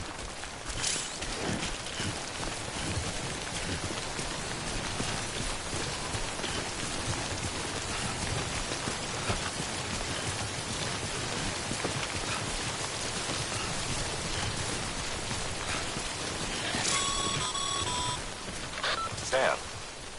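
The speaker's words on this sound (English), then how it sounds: "Don't stay out in the rain any longer than you have to." Timefall rain falls in the Death Stranding video game as a dense, steady hiss of downpour that lasts the whole stretch, with a few brief electronic beeps near the end.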